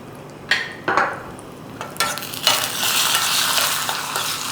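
Cashews frying in ghee, with apricots added as the nuts start to brown, for a carrot apricot kheer: steady close sizzling with a few sharp stirring and pan clatters at the start, no talking.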